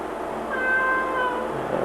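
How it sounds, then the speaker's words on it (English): A shop cat meows once in a bicycle framebuilding workshop, a drawn-out cry at moderate distance over a quiet room hum, with no one talking. "The shop cat is wandering through the shop at this time."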